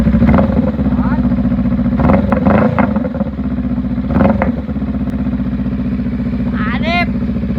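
A Honda Rebel 500 fitted with an Orion slip-on muffler idles with a loud, steady low rumble, and short bursts of clatter ride on top while a voice talks over it near the end.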